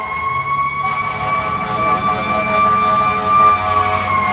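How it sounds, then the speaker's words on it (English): A fire engine siren wails loud and steady in the open, its tone rising and falling as the truck goes by, with no talk over it. "Hey, that's a fire engine."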